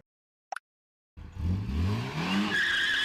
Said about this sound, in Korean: 스크리치는 바닥을 긁는 소리고,